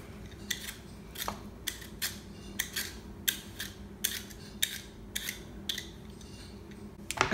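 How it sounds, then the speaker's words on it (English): A vegetable peeler scrapes across raw rutabaga in about a dozen quick, evenly spaced strokes, close up and crisp over a low background hum, with no talking. "But I'm gonna use my peeler."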